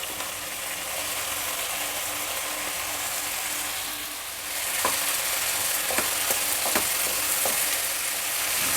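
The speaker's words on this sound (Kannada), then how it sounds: "ಸ್ವಲ್ಪ ಒಂದು ಎರಡು ಮೂರು ನಿಮಿಷ ಫ್ರೈ ಮಾಡಬೇಕು ಎಣ್ಣೆಯಲ್ಲಿ" Chopped ivy gourd (tondekai) frying in oil in a pan for a masala rice dish, a steady broadband sizzle throughout with a few sharp clicks of a spatula scraping near the end, no voices.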